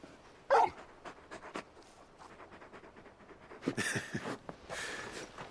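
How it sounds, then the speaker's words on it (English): Torgal, a large dog in Final Fantasy XVI, pants and whimpers softly in quick breathy bursts, with a few louder huffs and snuffles near and mid-range in a quiet scene. "You're just a big puppy, aren't you? A very big puppy."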